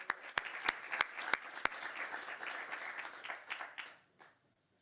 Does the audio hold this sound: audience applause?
yes